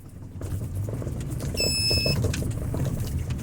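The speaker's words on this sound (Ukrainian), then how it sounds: "А, це у нас газ пищить." A short electronic low-fuel warning beep in a car, a bright high tone with overtones lasting about half a second, over a steady rumble of car noise.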